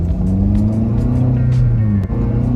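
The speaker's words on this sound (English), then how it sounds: "my exhaust kind of gets a little loud" Low, loud engine rumble from the exhaust of an 8th-generation Honda Civic Si, steady with slight pitch shifts as it revs, heard up close.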